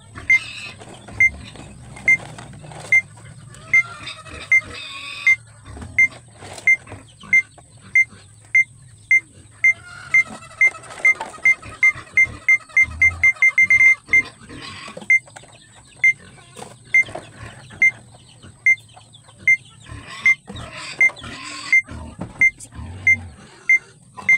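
A timer beeps in a steady, evenly spaced series of sharp, loud electronic pips that speed up briefly into a rapid run of alarm beeps before returning to the regular pace, over scattered household clatter.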